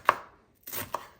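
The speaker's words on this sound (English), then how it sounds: "Chopping the vegetables." Vegetables for homemade guacamole are chopped with a knife on a board, three crisp, close chops spaced unevenly in a quiet kitchen.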